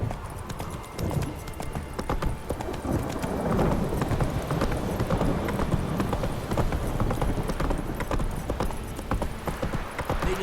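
Roach, a horse in The Witcher 3 game, gallops with loud steady clip-clopping hooves and an occasional whinny, close and continuous over a busy game soundscape.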